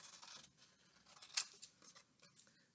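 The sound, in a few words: scissors cutting out a paper tulip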